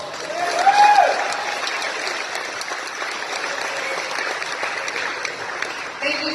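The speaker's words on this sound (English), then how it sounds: "Let's give them all a round of applause." Applause from a crowd at a charity motorcycle ride event for kids, a broad, continuous clapping that swells near the start alongside a brief voice, then holds evenly for several seconds.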